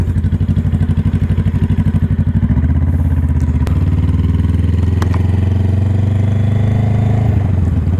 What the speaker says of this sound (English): My buddy Austin just got his motorcycle title, so we can go for a ride